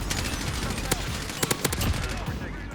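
Gunfire in Modern Warfare, several sharp shots from an M4A1 rifle cracking in quick bursts over a dense, noisy battlefield background.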